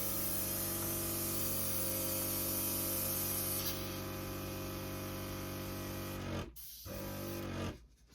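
An airbrush fed by a bench-top compressor at about 21 psi sprays in a steady, loud, close hiss that holds for several seconds, briefly cuts out, resumes, then drops away near the end.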